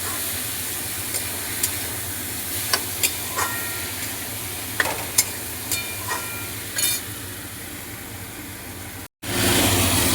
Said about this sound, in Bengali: এবার এই ডালটাকে একটু ভাজা ভাজা করবো